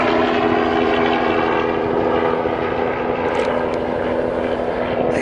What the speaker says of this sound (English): There's been a chopper buzzing around here.